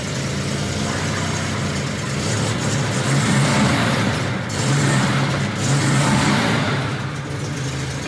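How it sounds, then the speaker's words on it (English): A Volvo 164 engine with Bosch D-Jetronic fuel injection fires up and settles into a steady idle, with a continuous low rumble that swells slightly a few times, close and loud, with no talking. "And I think the best part about the Bosch D-Jetronic she fires up right away."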